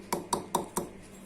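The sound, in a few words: pounding roasted spices by hand for mango pickle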